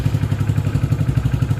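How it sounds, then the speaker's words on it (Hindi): A BS6 motorcycle engine running at a steady idle right after starting, close by, with an even, rapid low thumping pulse and no talk over it. "तो बाइक को स्टार्ट करते हैं।"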